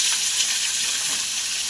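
Potato pieces fry in hot oil in a wok, a steady, even sizzling hiss that carries on without a break for the whole short stretch.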